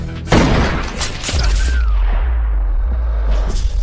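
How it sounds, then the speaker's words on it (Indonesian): A gunshot from a long-range shot in a mafia action film scene, a sudden loud boom followed by a deep rumbling tail that lingers under the soundtrack. "teman Losef pun ditembak dari jarak jauh"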